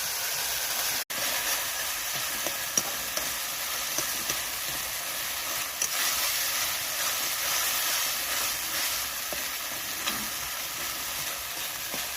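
Tomatoes sizzling as they fry down in a pan, a steady close hiss with faint crackles and occasional scraping clicks, unbroken throughout.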